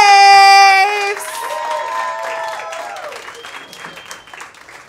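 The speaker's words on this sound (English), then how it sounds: "Go ahead and start clapping right now for Kris Raves." Comedy club audience clapping as a comedian is welcomed to the stage. A bright sustained tone and musical notes lead in, then applause carries on, fading gradually toward the end.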